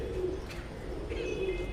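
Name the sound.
pigeons cooing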